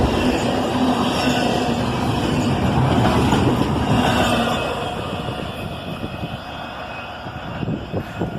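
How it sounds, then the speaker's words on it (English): CSX intermodal freight train passing close by with a loud, sustained rumble and rolling roar that eases slightly toward the end. "These intermodal trains are the hotshots of the CSX network."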